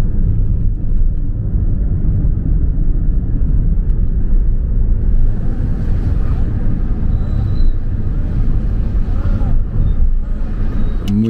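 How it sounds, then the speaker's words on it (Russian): Steady low road rumble from inside a car driving through a village near Anaklia, Georgia, with continuous engine and tyre noise throughout and no distinct events. "Мы едем через какое-то село."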